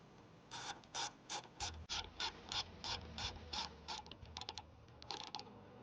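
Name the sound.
screws being tightened on grill light bracket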